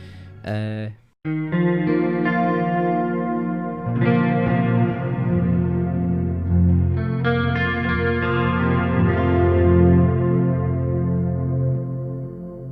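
An electric guitar through a Neural DSP NanoCortex cave reverb setting rings out with heavy, cavernous reverb, sustained chords blooming and lingering in a long echoing wash.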